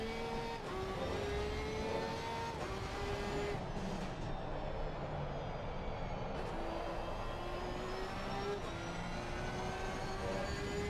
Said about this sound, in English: she sounds more like a NASCAR, I think, than a V8 car. It's got that permanent kind of same sound grunt engine.